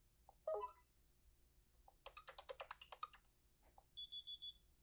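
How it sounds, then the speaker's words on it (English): A short series of electronic beeps from a Qolsys IQ Panel 4 alarm keypad giving trouble tones, a quick run of rapid tones followed by a steadier high-pitched beep pattern, fairly close and clear. "you can customize the tones of the trouble beeps"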